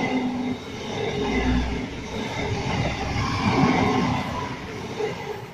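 A freight train hauled by NR class locomotives rolls past at a station, a steady, heavy rumble of wheels and wagons at moderate distance that continues throughout with no talk.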